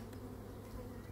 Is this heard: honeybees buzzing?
yes